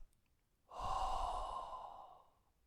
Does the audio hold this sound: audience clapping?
no